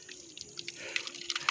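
Water runs from a village tap in the Nepali hills. It is a light, uneven trickle with scattered drips and splashes over a faint steady hum, getting slightly more active toward the end.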